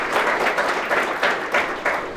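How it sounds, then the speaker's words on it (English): An audience at a furry convention voice-acting panel gives a steady round of applause, a loud dense clatter of many hands lasting a couple of seconds, with no talk. "So please still give applause for Orlando."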